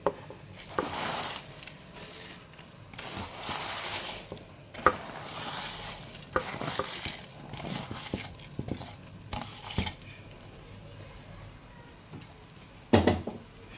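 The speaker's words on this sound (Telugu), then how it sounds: "కొంచెం హైలో పెట్టేస్తున్నాను, ఉడుకుతుంది చూడండి." Boondi for motichur laddu cooking in bubbling sugar syrup in a pan, with a faint steady simmer broken by repeated stirring and scraping clinks of a ladle against the pan, near and without talk.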